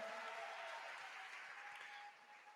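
An audience at the AmeCon 2018 anime convention closing ceremony gives a faint, steady round of applause for the event helpers, fading slightly toward the end.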